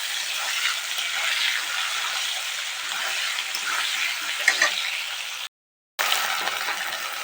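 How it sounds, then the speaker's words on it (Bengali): Potatoes fry in hot oil left over from frying fish, giving a loud, continuous sizzle with light stirring clicks. The sound cuts out completely for a moment, then resumes. "এবার ওই তেলেই এই আলুগুলো দিয়ে লাল লাল করে ভেজে নিতে হবে"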